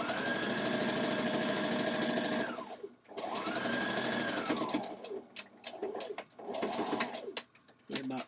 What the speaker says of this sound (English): we hemming the dress and we stitching down at the edge of the hem of the dress